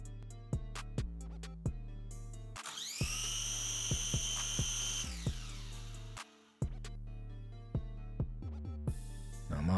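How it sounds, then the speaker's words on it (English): The motors of a ZLRC SG907 Pro budget GPS drone unlock and spin up, giving a rising high-pitched whine that holds for a few seconds and then stops. Rhythmic background music plays throughout. "To unlock all 4 motors, you just simply do this."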